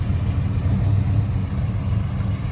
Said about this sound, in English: 1970 Chevelle 454 big block. It's got headers on it.